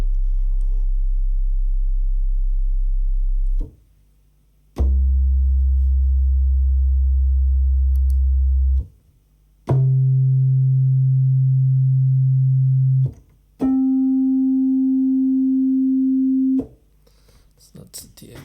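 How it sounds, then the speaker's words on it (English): A Yamaha DX7 FM synthesizer plays a bass tone, four or five long, steady, pure held notes, each one stepping higher in pitch, separated by brief gaps, loud and clean. "So that's DX7 sound."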